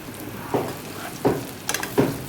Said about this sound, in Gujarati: તે બાદ 500 ગ્રામ જેટલા સુધારેલા ભીંડા તેમાં એડ કરીશું.